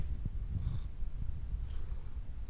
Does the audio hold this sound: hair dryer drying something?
no